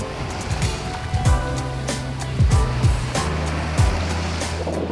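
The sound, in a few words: ocean waves on a beach in Tulum, Mexico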